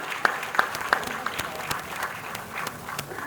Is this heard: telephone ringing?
no